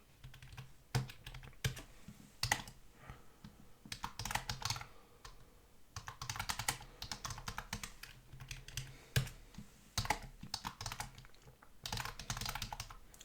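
Someone types code into Octave on a computer keyboard, a steady close-up clatter of keystrokes in bursts with short pauses between them. No one speaks.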